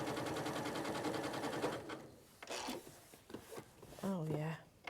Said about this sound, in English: I'm just using the zigzag on here because that's what most people have on their machines